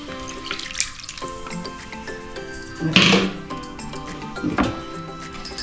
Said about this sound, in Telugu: ఇలా నీళ్ళు వేసి అంతా శుభ్రంగా కలుపుకొని నీళ్ళు ముక్కలు కొంచెం మునిగేదాకా వేసుకుంటే